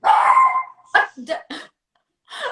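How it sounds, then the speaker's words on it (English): A dog gives a few sharp barks and yips close to the microphone, short separate bursts with pauses between, inside a home during a live talk show. "your dog answered that one for you."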